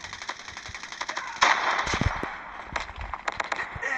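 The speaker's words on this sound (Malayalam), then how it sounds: "പുറകിന്ന് വെടി വെക്കുന്നുണ്ട്. നല്ലവണ്ണം പുറകിന്ന് വെടി വെക്കുന്നുണ്ട്." Gunfire in the Call of Duty video game, with rapid bursts of automatic shots and scattered single cracks, fairly loud and continuous, with no voices.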